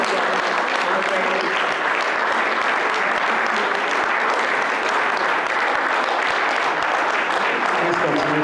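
Conference audience at the NEDIS 2017 event claps continuously as a speaker walks onto the stage; loud, dense, close applause holding steady throughout.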